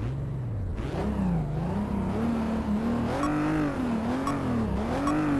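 A race car engine in a racing video game revs and rises in pitch through gear changes, loud and continuous with a whirring tone, with no talking over it.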